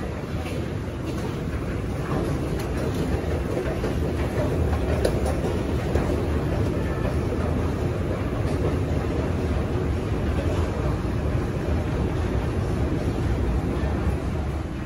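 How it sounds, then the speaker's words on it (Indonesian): Inside the Museum Negara MRT station in Kuala Lumpur, a constant rumbling wash of train and station noise carries on steadily throughout, with faint indistinct voices beneath it. "Oke, kita sekarang sudah berada di stasiun MRT"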